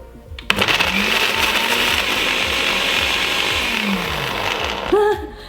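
A blender mixing homemade slime starts abruptly and runs with a loud, steady motor whir and grinding churn for several seconds, then clicks off at the end.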